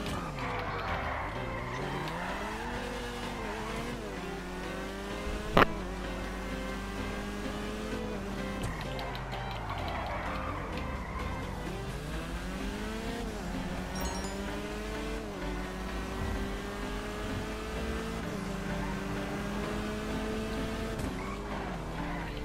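Maxwell Vagrant car in GTA 5 Online, its engine droning steadily with rising and falling revs as it drives, with a sharp thump about a third of the way through; no one talks.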